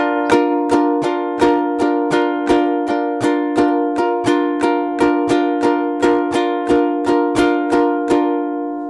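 Ukulele strummed steadily in a down, up, up pattern, bright, loud and close, with regular repeating strokes of a sustained chord for about nine seconds and no voice.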